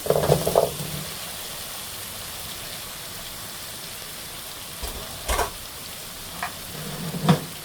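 Drumstick (sojne data) stalks frying in a pan for a dal bori dish, a soft steady sizzle with a few brief clatters of stirring near the start, middle and end.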